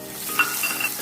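Chopped garlic and onion sizzling in a pan for a lote fish gravy, a steady close frying hiss with faint scraping of stirring and no voices.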